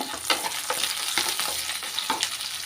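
Onions and green chillies fry loudly in a pan for a double beans gravy, a close, dense sizzle broken by regular scraping strokes of a stirring spoon.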